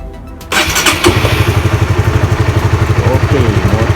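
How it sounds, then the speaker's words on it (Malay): A Honda RS150R motorcycle engine, newly fitted with a fresh spark plug, catches after a short crank and settles into a loud, steady, rapidly pulsing idle close by. "Okey, motor dah boleh start."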